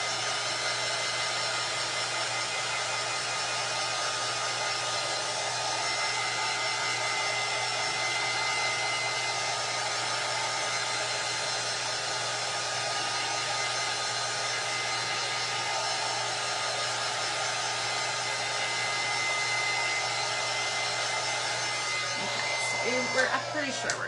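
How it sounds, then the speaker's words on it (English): A heat tool blows a steady, unbroken roar while drying paint on a Halloween craft, holding one place for the whole stretch, with a few faint knocks near the end. "keeping my heat tool in one place"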